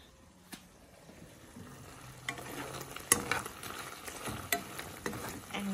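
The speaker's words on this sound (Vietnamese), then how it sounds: "Mình có kho nồi tép à." A pot of small shrimp braising on a stove sizzles quietly, broken by sharp scraping and clinking as the contents are stirred every second or so, close and without talk.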